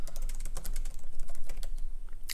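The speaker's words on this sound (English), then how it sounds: "I'm going to type Morpheus from the Matrix" Fast, crisp key clicks come from a computer keyboard, typed in an uneven, close and moderately loud run with no talking.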